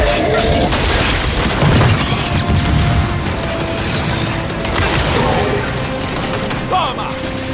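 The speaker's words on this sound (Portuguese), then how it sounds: "Lançaram granada de fragmentação!" Explosions and heavy gunfire from the Gears 5 lighthouse map on Insane difficulty, including a frag grenade blast, make a loud, dense barrage of booms and crashes, with voices talking over the action.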